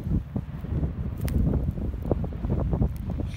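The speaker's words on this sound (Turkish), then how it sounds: "Müthiş bir rüzgar var şu an." Strong wind buffets the microphone beside the stone outer walls of Spayêrt Castle, a continuous low rumbling roar with uneven gusty thumps throughout, loud and close, with no voice over it.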